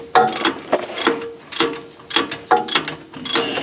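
A socket wrench ratchets on a 1960s Ford Mustang 8-inch rear differential, with short close bursts of metallic clicking repeated in a quick back-and-forth rhythm, and no talk.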